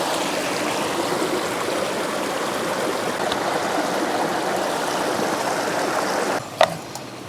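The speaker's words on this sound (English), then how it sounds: "The creek bottom at long last." Steady broadband rush of flowing creek water at the bottom of the Grand Canyon, continuous and fairly close, with a brief sharp knock near the end.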